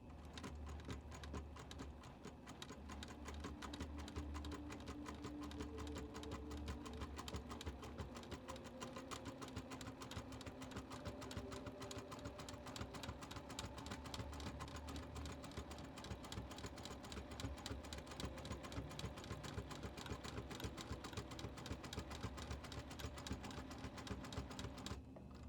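A sewing machine stitches a meandering pattern across a quilt at a steady, even speed, its fast, rhythmic needle chatter running continuously and alone for the whole stretch.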